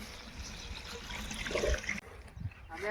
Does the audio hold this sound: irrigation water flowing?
yes